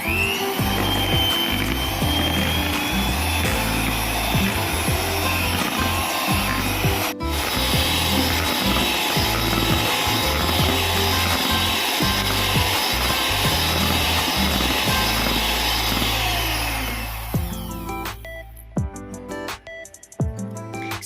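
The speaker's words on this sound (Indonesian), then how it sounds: "Kemudian di mixer hingga menggembang dan creamy tentunya." An electric mixer whirs steadily, beating cake batter made with one egg, a loud close buzzing drone that runs unbroken before cutting off near the end, leaving faint clicks.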